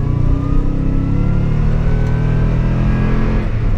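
A car engine pulls hard under acceleration, its rising rev tones loud and close from inside the cabin over a few seconds, with no talk.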